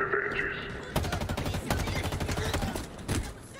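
Gunfire in the video game Halo Infinite, rapid bursts of loud automatic shots in quick succession, preceded by a brief tonal game sound.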